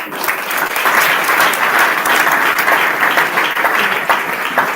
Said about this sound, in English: let's give the entire crowd here, the students and everyone mentioned, and those who've gone unnamed, a huge round of applause